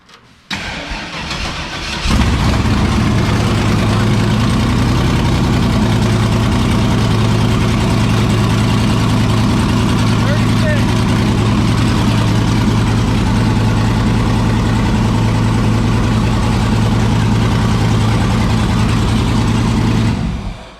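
A supercharged 376 V8 in a G-body car starts and settles into a loud, steady, lumpy idle that runs continuously for about eighteen seconds, close and heavy with low rumble and no speech.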